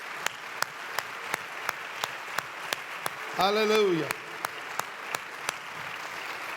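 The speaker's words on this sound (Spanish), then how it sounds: "Demos un fuerte aplauso al Señor." Slow, evenly spaced claps ring out in a church, steady single hand-claps in a regular rhythm, with a brief spoken exclamation from a voice partway through.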